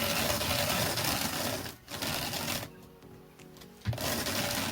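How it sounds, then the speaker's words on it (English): A hand-cranked drum carder processes a long draft of wool fibre, giving a steady close whirring and rasping with a brief pause mid-way before the carding resumes. "And then put that back through the carder again."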